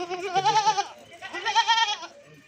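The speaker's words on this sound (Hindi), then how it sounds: "और ये माशाल्लाह बकरी है" A female goat of the Pure Gulabi Rajanpuri breed bleats twice close by, two long, loud, wavering calls separated by a short pause.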